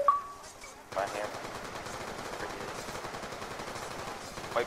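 Rapid automatic gunfire in Call of Duty Zombies on the Buried map, a dense continuous burst of shots that keeps going for several seconds after a brief lull, with a faint voice at the start.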